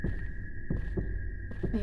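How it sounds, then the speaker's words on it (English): Heartbeat effect in a horror video game: a steady, low throbbing pulse with soft thumps repeating about every three-quarters of a second, over a constant hum. "I hear a heartbeat."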